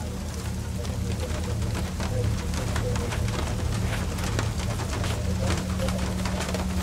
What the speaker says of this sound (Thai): เสียงฝนกระทบกับสังกะสี